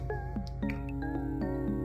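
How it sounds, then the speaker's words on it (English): A house cat meows several times in a kitchen, short rising calls close to the microphone over a steady low hum. "Oh, it's my cat."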